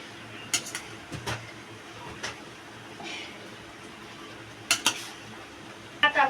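A spoon clinks and scrapes against a pot while rice is layered over prawn gravy for biryani, a handful of sharp metallic taps spaced irregularly over a quiet kitchen background.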